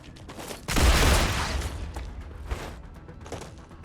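Sustained burst of gunfire from the shooter game Star Rupture, a loud dense volley opening the moment and trailing into scattered fainter shots and mechanical clatter.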